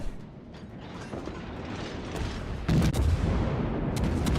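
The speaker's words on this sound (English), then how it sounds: "we're going to fire our HE at this Taco" Naval guns firing high-explosive shells in a warship video game, a steady mechanical rumble building into a sharp, loud salvo burst about two-thirds of the way through, followed by sustained heavy roar.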